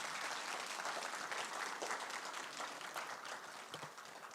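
Steady audience applause fills a scholarship award ceremony hall, a dense, even patter of many hands clapping that continues for several seconds with no talk over it.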